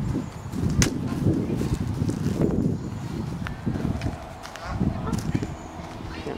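Several Canada geese, including young unable to fly, honk repeatedly nearby in a large colony at a park, with scattered sharp calls over outdoor background noise and some faint voices.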